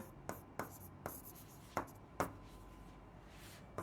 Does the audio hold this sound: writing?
yes